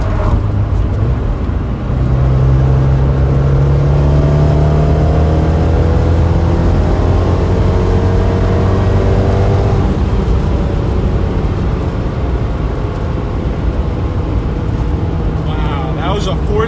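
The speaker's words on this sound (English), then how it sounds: "Wow, that was a fourth gear pull." A big-turbo Abarth 124 Spider pulls hard in fourth gear, the engine note climbing steadily from inside the cabin, loud and continuous with a rushing drone and a brief shift-like break partway through.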